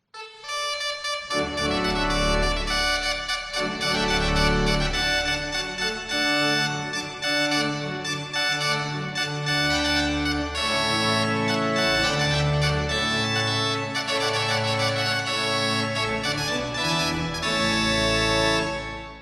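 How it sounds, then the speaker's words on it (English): A pipe organ plays loudly on its trumpet stops with bright, brassy reed tones, full chords and a busy melody sounding continuously and powerfully throughout. "And that's the really loud trumpet stops."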